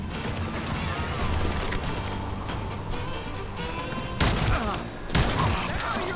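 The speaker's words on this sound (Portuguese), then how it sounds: "foi um tiro certeiro." Rapid bursts of gunfire crackle through a noisy Call of Juarez: Gunslinger soundscape, with two sharper, louder volleys near the end.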